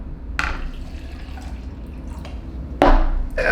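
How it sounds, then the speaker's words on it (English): Water being poured into a small new plastic shaker cup: a couple of brief splashing pours with a quiet gap between them, close and fairly clear against a low room hum. "So I'm just gonna pour some water into this small one from Legion here."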